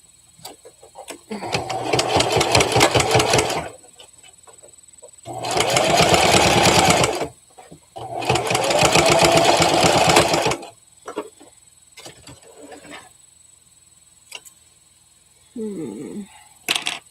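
A sewing machine stitching a stuffed mouse toy runs in three loud close bursts of rapid mechanical whirring, each a few seconds long, separated by quiet pauses with small handling clicks.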